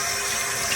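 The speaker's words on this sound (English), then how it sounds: "I'm going to rinse it off in some water." Cold tap water runs steadily while rinsing freshly cleaned wild hog meat after a hunt in Okeechobee, Florida, a constant close hiss of flowing water with no talk.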